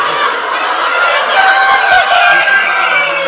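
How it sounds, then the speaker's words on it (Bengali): A crowded flock of farm chickens, drinking vaccine mixed into their water, fills the air with constant overlapping clucks and crowing calls, loud and close. "মুরগি ভ্যাকসিন খাচ্ছে"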